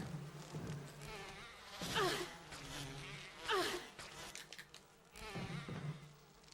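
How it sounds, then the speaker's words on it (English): Giant bees buzz in a Capcom haunted-mansion video game, with repeated wavering insect drones rising and falling in several bursts, fairly quiet overall. "Yay, giant bees."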